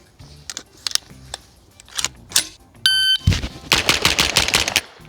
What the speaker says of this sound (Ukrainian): Зараз у нас дозвуковий патрон, рекомендований для використання з глушниками